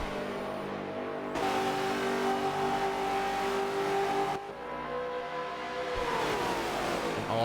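Race cars in a video game roar off together at the start at Homestead, a steady dense engine drone with rising revs and a sharp shift midway, loud and continuous with no talk.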